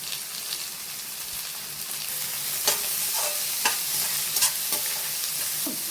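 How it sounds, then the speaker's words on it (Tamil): Chopped onions, green chillies and curry leaves sauté in hot oil for a crab gravy, giving a steady close sizzle with a few sharp pops and occasional stirring clicks, no talking. "கோல்டன் ப்ரௌன் ஆகிற வரைக்கும் நம்ம சாட்டே பண்ணிகிட்டே இருக்கணும்"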